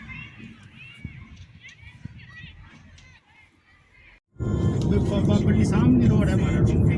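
A Jeep drives along a road in Serbia. At first there is quiet talking over a low engine, then a loud rush of engine and road noise cuts in abruptly and stays steady.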